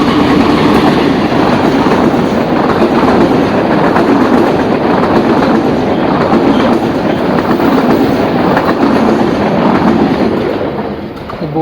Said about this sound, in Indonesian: Nah, kebetulan ada kereta lewat,